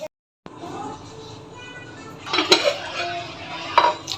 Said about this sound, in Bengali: আমি এখন এটা চুলা অফ করে একটা বাটিতে নামিয়ে নিচ্ছি